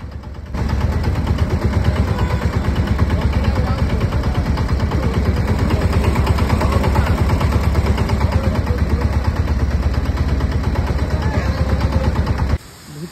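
A motorboat engine on a lake ride to the Shahasradhara 2 waterfall chugs loudly and close in a rapid, steady put-put pulse that runs almost the whole time, then cuts off near the end.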